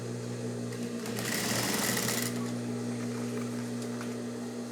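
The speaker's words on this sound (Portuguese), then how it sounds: "Vamos costurar agora do outro lado." Sewing machine stitching the side of a synthetic handbag, a steady close mechanical hum with a brief faster surge in the middle, no talking.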